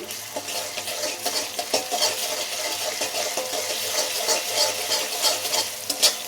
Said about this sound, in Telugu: ఒక టీ స్పూన్ అల్లం వెల్లుల్లి పేస్ట్ అయితే యాడ్ చేస్తున్నాను ఇప్పుడు పచ్చివాసన పోయినంత వరకు బాగా ఫ్రై అవ్వాలి